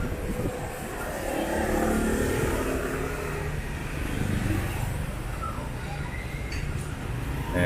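A motorbike pulls away from a roadside store, its mid-pitched engine revving and then settling as it rides off. The engine stays steadily loud over outdoor traffic ambience.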